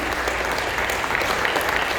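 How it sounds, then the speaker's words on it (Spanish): Steady applause from a church congregation, dense and even clapping filling the room for the full stretch, with no voices rising above it. "Den un aplauso al Señor."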